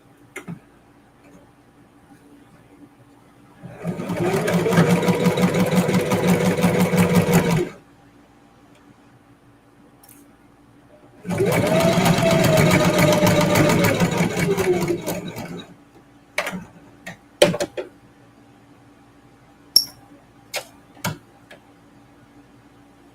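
A sewing machine runs a 3mm straight stitch row across a denim and fabric-scrap reverse appliqué quilt block, in two steady bursts of about four seconds each with a pause between, followed by a few sharp clicks and taps.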